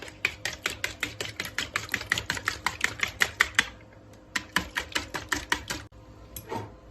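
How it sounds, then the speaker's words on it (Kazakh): Eggs with sugar and milk beaten in a bowl: a fast, even run of sharp clicks close up, a brief pause, then another quick burst of strokes with no voices. "Алдымен жұмыртқаны салып, араластырамыз."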